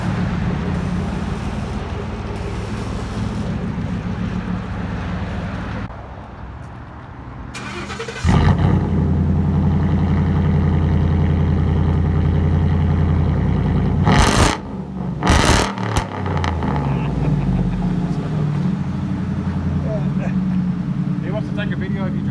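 A 2015 Ford F-150 with a 5.0L Coyote V8 and straight-pipe exhaust idles with a deep, loud rumble, then revs sharply, close by, with people talking over it.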